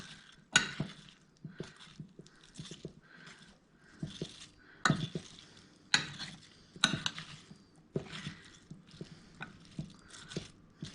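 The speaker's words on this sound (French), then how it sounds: "je remue à nouveau ma salade de fruits" Fruit salad with diced strawberries stirred in a bowl, a spoon clinking and scraping against the dish in repeated short bursts at close range, with wet chunks of fruit shifting between strokes.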